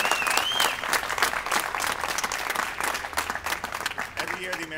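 A street crowd applauds Wall Street in uptown Kingston at an outdoor award ceremony, dense clapping that swells early then thins over a few seconds, with voices and a whistle mixed in.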